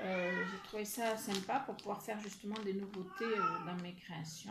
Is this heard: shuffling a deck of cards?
no